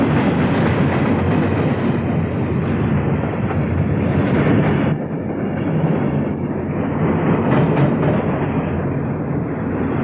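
A train rumbles past on the tracks, loud and close, a continuous roar with faint rhythmic clatter of wheels throughout.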